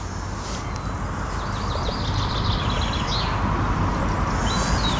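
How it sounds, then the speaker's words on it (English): Blackbirds singing beside a lake on a spring afternoon, warbling phrases and chirps at a moderate distance over a constant low outdoor rumble, with no talking. "Blackbirds singing now quite happily."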